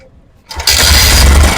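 A Yamaha SZR motorcycle being checked for an electrical current problem is started: after a quiet half-second comes a short cranking rattle, then the engine catches and settles into a loud, steady idle close by.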